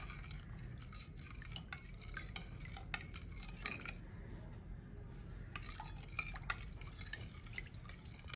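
Spoon stirring raw chicken pieces with spices in a bowl, with soft wet squelching and occasional light clinks of the spoon against the dish, steady and close throughout.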